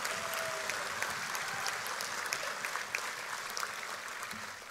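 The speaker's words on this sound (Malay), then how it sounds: "Tepukan tidak cukup kuat untuk memberikan penghargaan kepada UMNO Sabah." Audience applause at a UMNO Sabah general assembly celebrating the party's 30th anniversary: a dense, steady wash of many hands clapping, loud and sustained throughout without a break.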